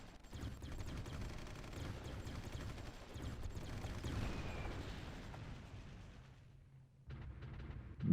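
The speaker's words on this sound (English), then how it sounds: "Wait, are they still bombarding us here?" Artillery bombardment in the strategy game Supreme Ruler Ultimate, a steady rumble of distant shelling and blasts that rolls on for several seconds, fades briefly, then resumes.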